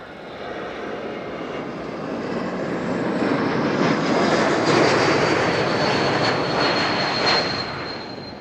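Airliner with geared turbofan engines passing at Amsterdam Schiphol Airport, a broad engine roar swelling to a peak and easing off, with a sustained high whistle running through it.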